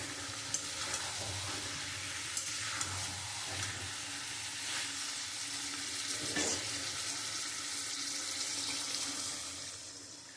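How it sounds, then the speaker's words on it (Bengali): Water is poured into a pan of frying elephant foot yam and prawns, a close, steady rushing hiss mixed with sizzle that holds for several seconds and tapers off at the end. "এবার আমি পরিমাণ মতন জল দিয়ে দেবো"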